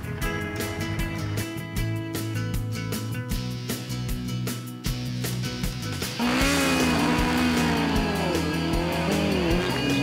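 Racing cars climbing the steep tarmac Gurston Hill hill-climb course, engines revving hard and rising and falling through gear changes, loud and close, with tyre noise as a car sweeps past.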